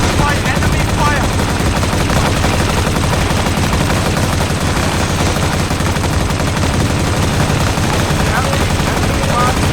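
Enemy gunfire in Battlefield 2: Modern Combat on PS2, a loud, dense and unbroken barrage of automatic weapons firing throughout, with some voice chatter mixed into the din.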